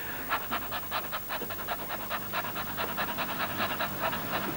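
Rapid rhythmic panting by people imitating a dog during a singing breathing exercise, a quick steady run of short breathy puffs lasting the whole stretch, fairly loud and close with no talk.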